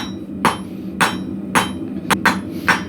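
Hot metal struck with a hammer on an anvil at a forge: six sharp metallic blows, the first ones evenly spaced and the last three quicker, close and clear with no talk.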